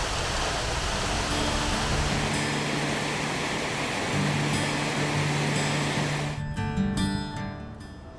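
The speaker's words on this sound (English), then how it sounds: "a short walk to spectacular Aira Force waterfall" Aira Force waterfall in the Lake District rushes as a steady, broad roar of falling water, constant and fairly close, easing off toward the end.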